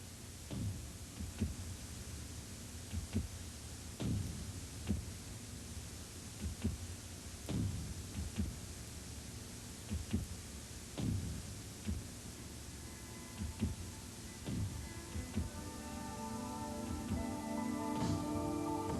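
Music as heard by profoundly deaf dancers: dull, muffled low thumps recur in a slow regular beat over a faint hum, with no clear melody audible.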